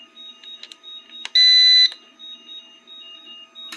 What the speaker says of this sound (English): that beeping is my lithium polymer battery charger that I'm charging